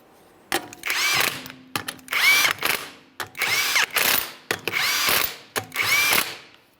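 A power tool, likely an impact gun, runs 19mm lug nuts onto a 2013-2020 Ford Fusion wheel: five loud, close whirring bursts, each about a second long, separated by brief pauses.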